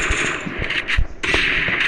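SKS rifle fire in the video game Free Fire: a few sharp shots separated by short gaps, each with a mechanical clack, sounding fairly close over a steady game background hiss.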